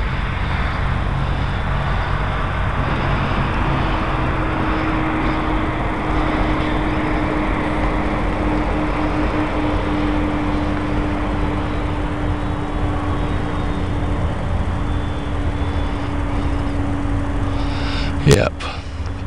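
A 72-inch RC Piper Cub model plane's engine and propeller drones steadily and loudly throughout, with a brief sharp burst near the end, over outdoor background.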